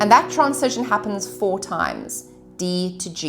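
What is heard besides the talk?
No everyday noises stand out.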